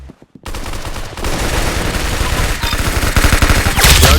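Rapid automatic gunfire in the Roblox shooter game Arsenal, dense bursts of shots rattling almost continuously after a brief pause, loud and close with game effects layered in.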